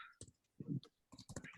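Typing on a computer keyboard during a Zoom meeting, a few quiet irregular bursts of clicking keys, close but faint, with no talk.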